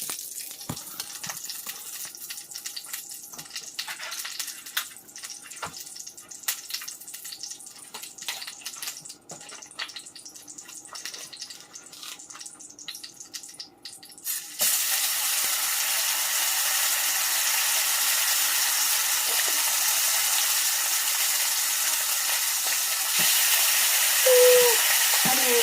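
Beef steaks dropped into a hot pan in a home kitchen burst into a loud, steady broadband sizzle that starts abruptly midway and holds, after a stretch of quieter clattering kitchen noise.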